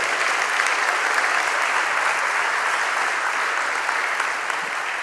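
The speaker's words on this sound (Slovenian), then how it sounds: "Predlagam še en aplavz za vedno čudovito Evo Černe Avbelj." Sustained audience applause fills a hall at a municipal holiday ceremony in Domžale, a dense, steady wash of many hands clapping at even loudness throughout, with no voices rising above it.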